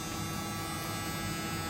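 An electric hair trimmer runs during a barber's haircut, giving a steady, even buzz with no pauses and no talk.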